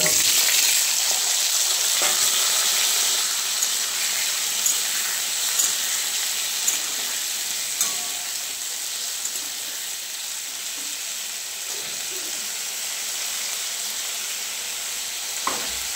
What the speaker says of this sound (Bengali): এর মধ্যে আলুটা একটু ভেজে নেব